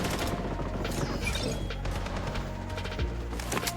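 Gunfire from the video game BloodStrike: dense, rapid bursts of shots and impact crashes play close and loud against a busy game soundscape.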